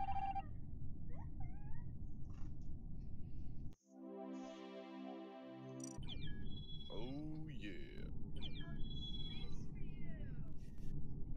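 A cat meows a few times in a room, short rising and falling calls scattered over steady background noise, with a loud synthetic game tone cutting in briefly partway through.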